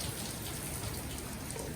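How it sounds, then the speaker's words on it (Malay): Steady rain falls outdoors as a dense, even hiss of countless drops pattering on surfaces, continuous and fairly close with no voices. "Okey, hujan tuan-tuan."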